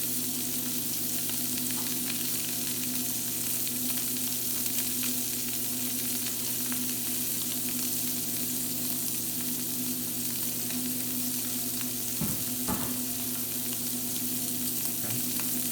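Scallops sear in a hot pan with a steady, even sizzle that stays constant throughout, with a couple of brief clanks near the end and no talking.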